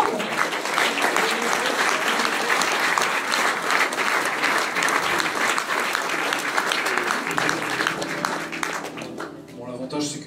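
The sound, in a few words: audience applause for a singer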